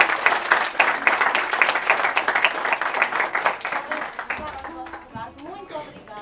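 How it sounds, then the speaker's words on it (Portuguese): Students clap for their classmates after a reading of a dramatic text at a school, with brisk, close clapping that thins and fades out over the last couple of seconds, followed by voices starting to talk. "Vamos agora dar uma salva de palmas aos colegas."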